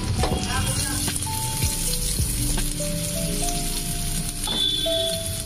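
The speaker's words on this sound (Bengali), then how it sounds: "তো পেঁয়াজটা একটু লাল করে ভেজে নিই।" Chopped onions frying in a pan over a medium-low flame, giving a steady close sizzle with occasional stirring clatter, while someone speaks over it.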